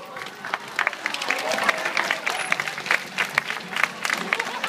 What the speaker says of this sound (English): keep the round of applause going